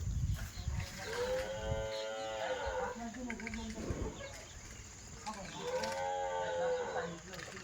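A large HF dairy cow in its second lactation gives two long, deep moos a few seconds apart, fairly close, over low background noise and some talking.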